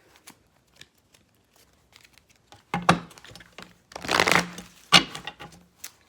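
Tarot cards are shuffled close by, with scattered soft taps first, then a few bursts of riffling and flicking.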